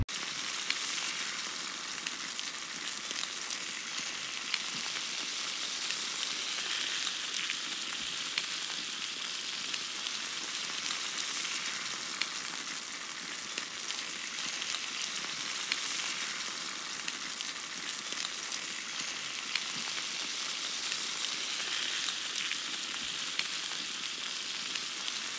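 Steak sizzles in a pan, a continuous even frying hiss with faint crackles that stays steady throughout, with no voices.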